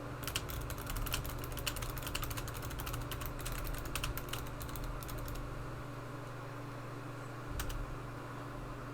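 Typing on a computer keyboard while entering chatbot input, a brisk run of light clicky keystrokes that thins out and then stops, with a couple of late taps over a steady low hum.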